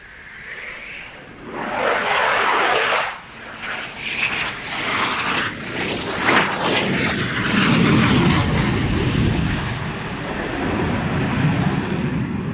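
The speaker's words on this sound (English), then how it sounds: "one of the great things that the Typhoon does is to demonstrate rolling and pitching at the same time" A Eurofighter Typhoon C-16 fighter jet performs a flying display, rolling and pitching at the same time. A loud, shifting engine roar swells and fades as it passes, with rumbling bursts and a sustained low growl toward the end.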